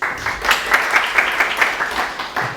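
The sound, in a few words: audience applause for a lecture speaker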